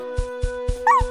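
A puppy in the Boonie Bears cartoon barks four times in a quick, evenly spaced series of short yaps, the last rising into a higher whining yelp, over a steady sustained musical tone.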